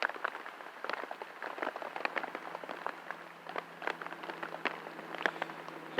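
Light rain sprinkling on an outdoor surface, a steady soft patter of scattered drops and faint ticks, fairly quiet and continuous with no talking.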